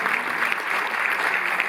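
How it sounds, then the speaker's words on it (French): Short burst of dense audience applause at a Cinémathèque screening for actor Jean-Pierre Kalfon, an even, continuous clapping wash with no pauses. "Vous pouvez l'applaudir."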